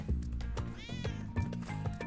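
A cat meows in the Spelunky 2 video game: one short mid-pitched meow in the middle of a steady game music loop, fairly clear but not loud.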